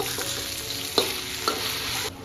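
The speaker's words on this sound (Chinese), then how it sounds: "小火煎牛排" Beef steak fries in a pan over low heat with a steady, close sizzle throughout and two brief sharper crackles or utensil taps breaking through.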